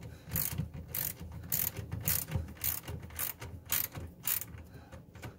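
Ratchet wrench tightening the mounting bolts on an in-sink garbage disposal during a DIY replacement: a quick run of crisp, rhythmic clicking strokes, close up and fairly quiet, with no talking.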